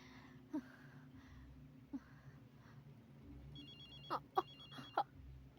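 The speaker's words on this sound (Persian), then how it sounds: "زنگ است" A mobile phone rings nearby, a faint electronic ringtone pattern of short repeated tones that starts partway through, with soft thumps and rustling between the rings and no clear speech.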